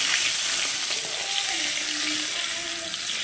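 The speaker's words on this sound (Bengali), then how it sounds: "মাছটা উল্টে দিলাম বন্ধুরা মাছটা ভাজা হয়ে গেছে" Poa fish fries in hot oil with a dense, steady hiss and faint crackle, close and continuous throughout.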